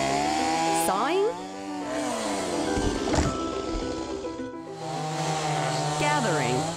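A chainsaw saws birch trees in snowy winter woods, its motor whining and revving up and down in uneven surges, with people talking nearby.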